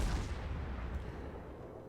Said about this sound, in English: Yeah, that's someone else's shots who are coming in